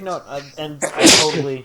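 A single loud, close sneeze bursts out between stretches of conversation, with voices talking before and after it.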